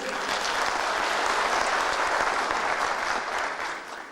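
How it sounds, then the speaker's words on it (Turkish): Sustained applause from a large audience fills an awards-ceremony hall, loud and dense throughout, tapering slightly at the end. "Bu salondaki yanında insan çalışacak tüm kardeşlerin hepsi alkış hak ediyor."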